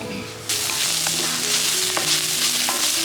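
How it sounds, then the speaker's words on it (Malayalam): Ginger, garlic, green chili and onion fry together in hot oil at a roadside food stall, a loud, steady sizzle that jumps up after a quiet start, with occasional stirring clicks and no voices. "നമ്മുടെ ഈ 4 സംഘം മൂത്തുകൊണ്ടിരിക്കുകയാണ് കേട്ടാ. ഇഞ്ചി, വെളുത്തുള്ളി, പച്ചമുളക്, സവാള"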